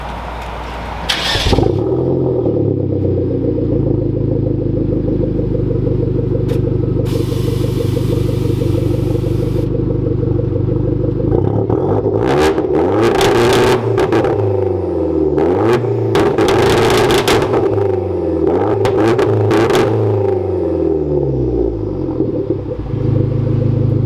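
Hyundai Genesis Coupe with a rebuilt downpipe starts up and settles into a steady idle, then a series of sharp throttle blips rise and fall over the rumbling exhaust, loud and close, with no talking.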